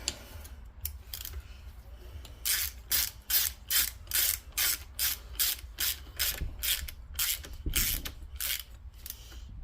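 Socket ratchet clicking on Mustang T5 transmission bolts, a steady series of about a dozen rapid ratcheting strokes close by, each a short buzzing burst with brief pauses between.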